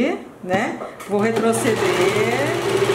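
Sewing machine running a zigzag stitch on a towel, steady whirring motor with a rhythmic needle patter close by, starting after a short pause, while someone talks over it.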